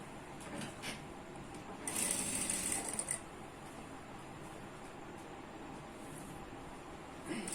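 A sewing machine stitches a fold into ankle-length pant fabric in a quiet room, running in one brief, steady burst of about a second partway through.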